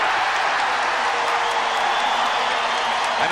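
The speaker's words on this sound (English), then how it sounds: "Listen to the crowd as the Celtics have come back, still trailing by 5" Dense, steady roar of an arena crowd at a Celtics vs Bulls NBA playoff basketball game, broad and continuous cheering with scattered applause, loud and sustained throughout with no clear voice on top.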